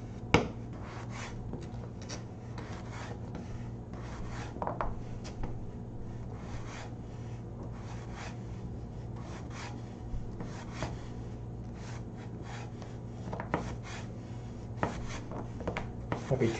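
A knife cuts a vegetable into half-moon slices on a cutting board, making a faint, steady series of soft chops and scrapes at an irregular pace over a low background hum.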